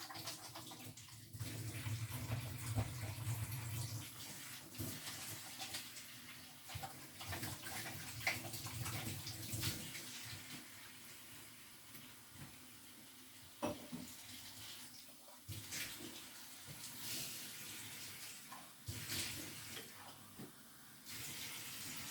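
Water runs from a tap into a cup in a kitchen during cake decorating, a faint steady splashing flow with small clinks and handling noises around it.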